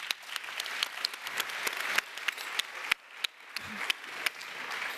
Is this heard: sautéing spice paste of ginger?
no